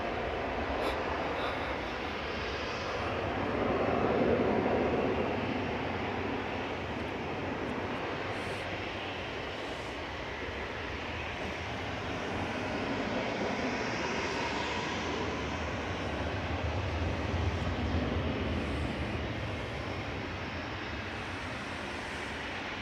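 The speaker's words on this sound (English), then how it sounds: "Next arrivals, Ryanair Flight 6 from Funchal." A Ryanair jet arriving from Funchal at Manchester Airport roars in a broad, steady rumble that swells and eases over more than twenty seconds, heard from some distance with no voices.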